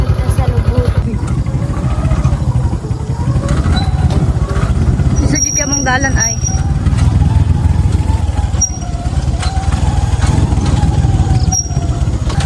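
A motorcycle engine hums steadily and close throughout a ride along a road toward a mountain river fishing trip, with a voice speaking briefly over it.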